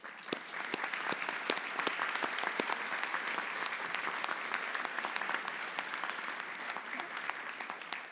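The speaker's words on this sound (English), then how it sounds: "give a round of applause to their supporters who helped them along this journey" Audience applause at a graduate school commencement ceremony, a steady, moderately distant wash of many hands clapping that continues throughout at an even level, with no speech over it.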